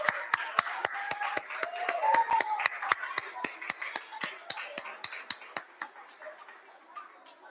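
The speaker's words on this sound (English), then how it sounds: "Let's give a round of applause for Zoe." Sparse, distinct hand claps ring out at a third-grade school awards ceremony, a few people clapping at an uneven rhythm that thins toward the end, with faint voices in between.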